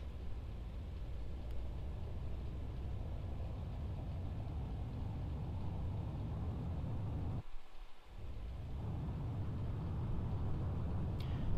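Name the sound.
ship warp drive engaging in the video game EVE Online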